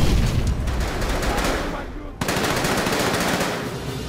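Gunfire in the video game Call of Duty: World at War, dense rapid machine-gun bursts and shots filling the mix with a brief gap midway, loud and continuous.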